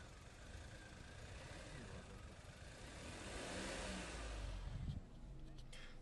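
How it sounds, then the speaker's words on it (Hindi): A car engine heard from inside the quiet cabin is revved once, a muted swell building gradually over a soft idle hum before dropping off abruptly. "तो अगर मैं रेव करूँगा तो दिस इज़ द नॉइस"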